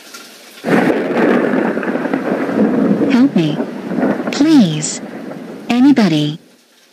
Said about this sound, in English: I must get out of this storm.